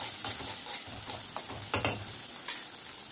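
Chopped onion with curry leaves sautés in a pan, a soft continuous sizzle punctuated by repeated scraping stirs and a few louder clinks of the spoon against the metal.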